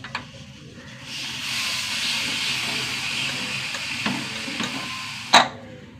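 A pressure cooker cooking dal releases a loud, sustained steam hiss lasting several seconds, with a few sharp clicks and a brief burst near the end before it cuts off.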